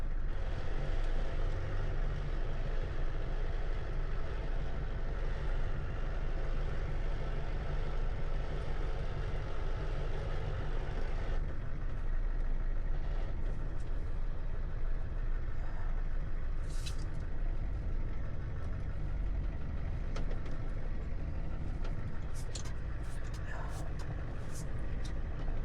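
A vehicle idling slowly through floodwater after a rainstorm, a low steady engine rumble with water swishing, while people talk over it and a few brief clicks and rattles sound near the end.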